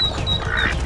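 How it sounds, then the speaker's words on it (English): Ducks quacking during a territorial fight while a mother duck defends her ducklings, a brief burst of close, loud, harsh quacks with no speech. "The mother duck is fighting for her family."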